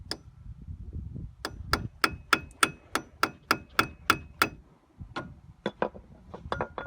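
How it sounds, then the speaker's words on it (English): A hammer strikes metal while an ABS sensor is being replaced on a Ford Expedition, about a dozen sharp, evenly spaced blows close by, then a pause and a few more quicker hits. "Take our hammer."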